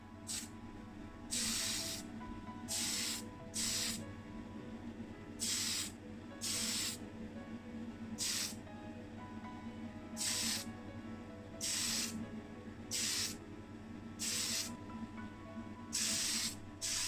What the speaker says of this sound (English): And I'll cover the casting now with some of my Tamiya Fine Surface Primer in white.